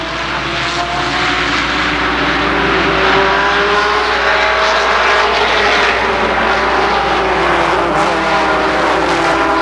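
Legends race cars roar around an oval speedway at Columbus Motor Speedway, a loud sustained engine howl with overlapping pitches from several cars running together, steady and close for the whole stretch.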